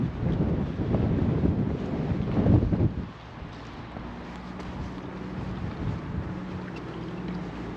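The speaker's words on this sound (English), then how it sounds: "It's very gusty and cold down here at the waterfront" Gusty wind blows at a harbour waterfront, buffeting the microphone with loud rumbling bursts for the first few seconds, then easing to a lower, steady blustery rush with lapping water underneath.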